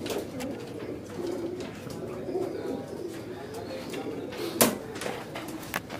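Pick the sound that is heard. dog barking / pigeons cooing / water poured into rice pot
pigeons cooing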